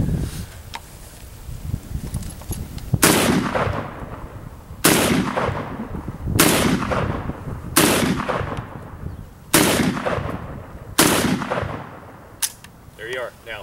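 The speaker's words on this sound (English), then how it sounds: "I'm gonna shoot it again." Six loud gunshots fired at a shooting competition, spaced a second or two apart, each sharp crack ringing out outdoors over a background of murmuring voices and rustle.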